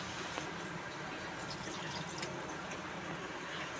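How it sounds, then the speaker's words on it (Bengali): Water pours into a pan of soybean curry cooking in oil for a vegetarian meal, a steady broadband splashing rush that holds evenly throughout with no talking. "এবার এর মধ্যে আমি জল দিয়ে দেবো"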